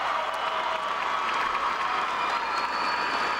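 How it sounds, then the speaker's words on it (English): Steady applause from a crowd at a high school basketball game in Columbus, sustained and even throughout, with a dense wash of clapping and no distinct voices. "a warm round of applause from the Wildcats faithful here today in Columbus"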